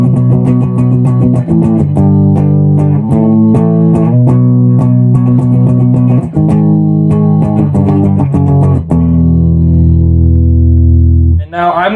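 Carvin MTS3200 electric guitar played through its neck pickup, a Seymour Duncan Jazz from a Jazz and JB set, in a near-clean tone at very low volume, sustained chords ringing steadily and closely, then a fading final chord.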